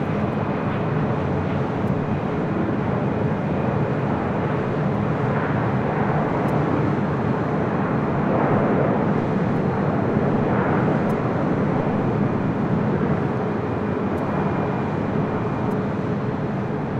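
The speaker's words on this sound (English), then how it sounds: "Touching down, that was Southwest Airlines Flight 2061 coming in from Tucson on the 737-700." A Southwest Airlines Boeing 737-700 landing at LAX gives a loud, sustained jet roar that swells and fades slightly as it passes. There are no voices.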